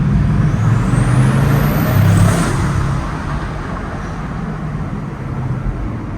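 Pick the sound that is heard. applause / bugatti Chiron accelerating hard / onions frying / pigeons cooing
bugatti Chiron accelerating hard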